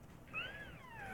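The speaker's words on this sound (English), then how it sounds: "Sounds like a purring cat when he dies." A zombie's death cry in the zombie shooter Dead Trigger 2, a rising then falling purr-like, cat-like wail lasting about a second over faint game background noise, with no talking.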